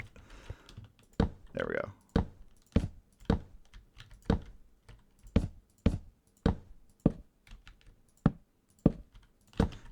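Computer keyboard being typed on and shift-clicked during a TerraFirmaCraft session, with sharp, evenly spaced clacks and clicks close up and a brief spoken remark early on.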